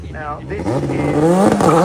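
Bright red race car at the Goodwood Festival of Speed, engine revving and climbing in pitch as it accelerates past nearby, rising over roughly two seconds.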